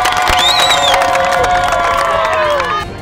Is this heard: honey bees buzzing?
no